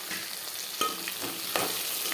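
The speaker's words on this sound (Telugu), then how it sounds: "మంచిగా గోలేదాకా వేయించుకోవాలి" Drumsticks, the vegetable, frying in a pan, a steady close sizzle broken by a couple of sharp spatula taps and stirring scrapes, no voices.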